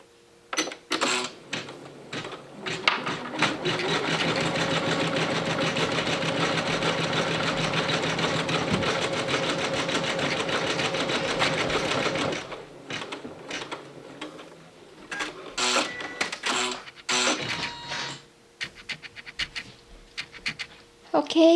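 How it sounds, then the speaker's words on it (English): Embroidery machine stitching black thread for the nose and eyes on a felt teddy bear in the hoop, running in a steady rapid rattle for about ten seconds, then short stop-start bursts of stitching. "I have put in the black thread to embroider the nose and the eyes"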